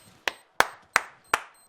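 Four slow, deliberate claps, evenly spaced about a third of a second apart, sharp and fairly close, a sarcastic golf clap with quiet gaps between each.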